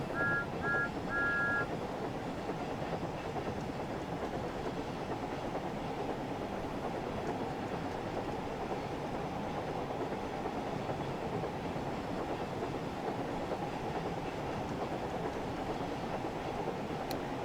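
Train running on the London to Brighton line in Train Sim World 5, a steady rumbling rolling drone with a few brief beeps at the start, continuous and moderately loud.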